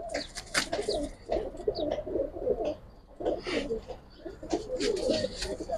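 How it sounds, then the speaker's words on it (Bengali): Several black-necked pigeons coo in repeated rolling phrases at a loft in Old Dhaka's Islambagh, close and steady, with faint chirps and background rustle but no talking. "দেখেন কবুতর দেখেন ভাই, ভয়ানক কবুতর ভাই"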